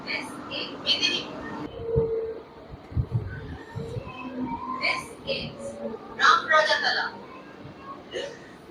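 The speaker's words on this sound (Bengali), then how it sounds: "আমাদের ট্রেন ছেড়ে দিয়েছে" A local train rumbles steadily with low clattering and rolling noise on the Howrah to Medinipur line, while people talk and call out nearby over the running carriage sounds.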